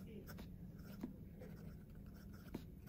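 A La Fenice Leonardo fountain pen with a fine nib scratches faintly across paper, soft close strokes with a couple of small taps in a quiet room.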